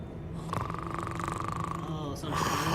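A sleeping creature in the Hogwarts Legacy game snores in a steady droning rumble with a held tonal buzz, loud and close, running for about two seconds before a breathy release.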